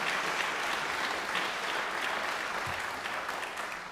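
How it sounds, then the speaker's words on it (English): Applause for housing trust staff at a gala fundraiser for a Skid Row housing organization, a steady, dense round of clapping from a large audience that holds at full strength for four seconds. "we want to give you a huge round of applause"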